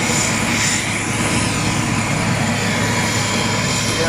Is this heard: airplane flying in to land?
yes